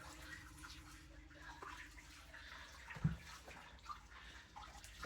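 Water draining out of an ice bath tub once the plug is pulled, a faint, steady low gurgle and trickle with a few soft knocks and splashes.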